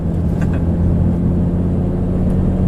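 A Lamborghini Gallardo's engine heard from inside while cruising, a loud, steady low rumble with a constant drone and no clear gear change.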